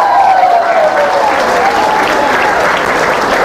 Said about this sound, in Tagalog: Ganyan po talaga ang palakpak ng mga senior citizens.